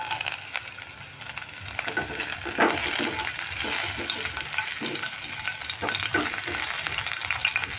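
Whole cumin seeds and chopped green chillies fry in a pan for a vegetable roll filling, a steady close sizzle broken by repeated stirring scrapes, no voices.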